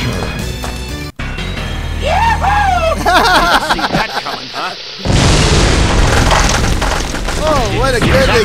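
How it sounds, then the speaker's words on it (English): In a Mortal Kombat video game, a loud booming explosion bursts out amid fight sound effects and dramatic game audio, with a brief dropout and then a second heavy blast near the end, mixed with voices. "What a good explosion!"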